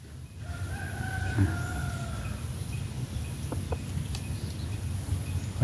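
An F2 crossbred rooster crows once early on, a drawn-out tonal call at moderate distance above steady outdoor background noise, with a few faint scattered sounds afterward.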